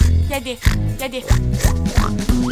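Cartoon pigs oink in a French farm children's song, a quick run of about six nasal, rhythmic grunting oinks up close with musical accompaniment.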